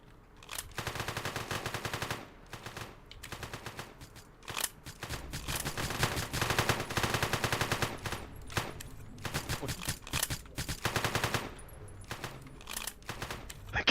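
Rapid automatic gunfire from a shooter video game, dense bursts rattling almost continuously for most of the stretch, loud and close, with brief gaps between volleys.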